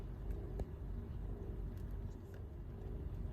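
A car rolls slowly into the yard of a village house, a steady low engine rumble close by with a faint click partway through.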